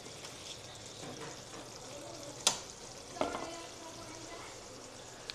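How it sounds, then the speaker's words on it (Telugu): Onion frying with turmeric in a pan for onion pickle: a quiet, steady sizzle and stir with a couple of sharp clinks of a utensil against the pan, no talk. "ఉల్లిగడ్డ వాసన పోయే వరకు దీన్ని వేయించుకోవాలండి"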